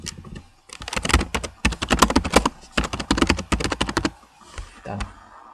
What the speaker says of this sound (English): I'm going to type in here number of responses